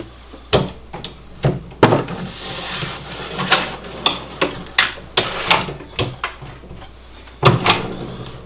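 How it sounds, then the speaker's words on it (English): A push-to-open drawer slide takes a drawer box during installation, giving a string of sharp wooden knocks and clicks at a steady, uneven rhythm, close and fairly loud. "The next thing is installing the drawer box."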